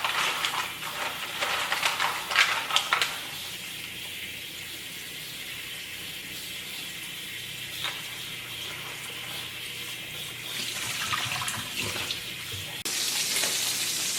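Tap water gushes steadily into a bowl holding frozen mussels set to soak in a home kitchen, a continuous hissing splash that swells louder near the end, with no talk.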